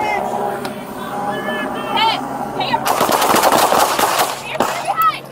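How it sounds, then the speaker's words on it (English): Rapid bursts of gunfire during an LAPD car chase after a stolen BMW, loud cracking volleys in the second half over radio chatter, siren-like tones and excited voices. "Shots fired."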